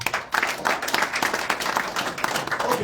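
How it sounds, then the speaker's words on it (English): A crowd claps at a press briefing held by a Nigerian Labour Party presidential candidate, giving dense, fairly loud sustained applause with scattered individual claps for about three seconds. "Another round of applause for him."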